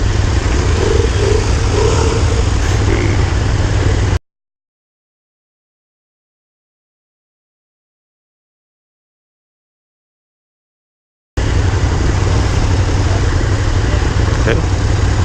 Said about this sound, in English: Got 1300cc V-twin here.